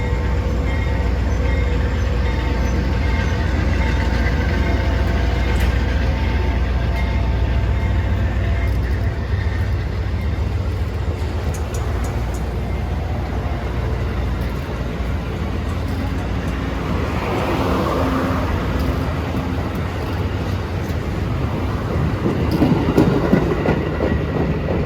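An Amtrak train passes close by at White Sulphur Springs station in West Virginia, a loud continuous rumble of wheels and rail cars with faint clickety-clack, steady throughout without a break.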